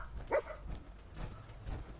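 A dog in a PS4 video game gives a single sharp bark near the start, then softer muffled sounds follow at a moderate distance.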